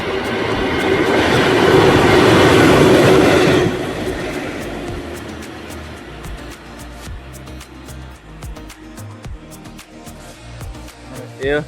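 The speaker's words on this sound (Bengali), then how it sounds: "এটা ট্রেন না ট্রেনের ইঞ্জিন আসছে" A train locomotive passes loudly beneath a bridge over water, its roar fading into rhythmic clickety-clack of wheels as voices talk nearby.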